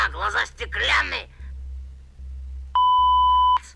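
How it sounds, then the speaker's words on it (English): A steady electronic censor tone cuts in for under a second after a burst of speech in a horror game, flat and loud over a low background hum, blanking out obscenities. "Obscenities were covered by another beep."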